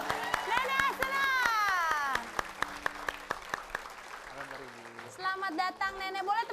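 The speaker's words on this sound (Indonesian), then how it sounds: "Boleh tepuk tangannya sekali lagi untuk Nenek" Studio audience clapping to welcome an elderly woman, Nenek Asena, onto a TV show stage, lively applause with sharp individual claps alongside music and a host speaking over it.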